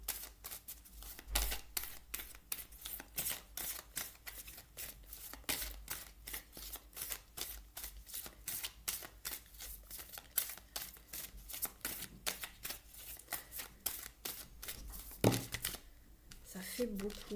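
An oracle deck of goddesses, gods and guardians being shuffled and a card drawn, with a rapid run of crisp riffling clicks and soft paper flicks, ending in a brief rustle.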